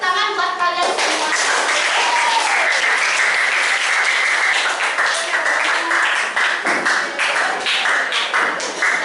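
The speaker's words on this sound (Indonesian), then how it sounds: "silakan tepuk tangan buat kalian semua." Clapping from a group of participants at a teachers' on-the-job learning workshop, fairly loud and continuous for about nine seconds, with a few voices calling out over it.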